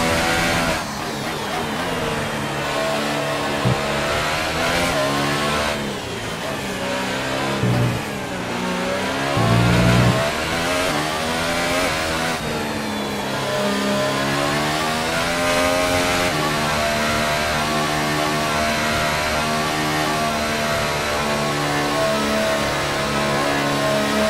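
F1 race cars revving at the start of a race at Silverstone in the F1 2018 video game, high-pitched engines held at steady revs with rising and falling tones, loud and continuous with no talking.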